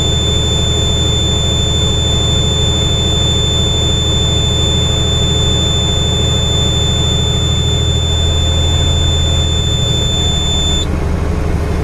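A truck's air brake low-pressure alarm sounds a steady high-pitched electronic beeping continuously over a loud idling diesel engine rumble, cutting off near the end.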